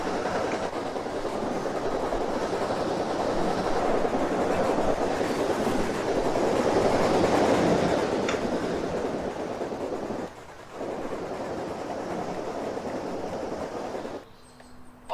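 A train rolls along its rails in the Roblox video game, a steady loud rumble with faint rhythmic clatter running throughout, dipping briefly near the end.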